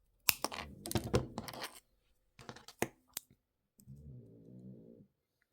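Jewellery wire snipped with cutters while making wire-wrapped earrings, a few sharp close clicks and snaps in quick bursts, then quieter handling noises, in a quiet room with no talk.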